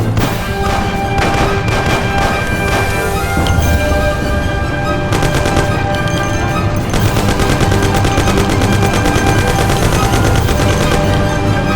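Rapid bursts of gunfire from Mafia: The City of Lost Heaven crackle loudly and almost nonstop, machine-gun volleys mixed with heavier booming shots, with no talk.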